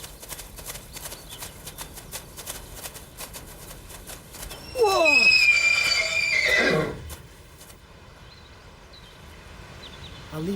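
A horse gives a loud, shrill whinny lasting about two seconds, its pitch sliding downward, set against a quiet background with faint rustling before and after.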